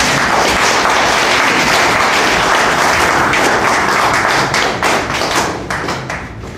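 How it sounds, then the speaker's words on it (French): Loud, dense clapping from a public audience at a literary forum gathering in Brazzaville fills the space, holding steady before gradually thinning and fading toward the end. "Est-ce qu'on peut applaudir cette équipe?"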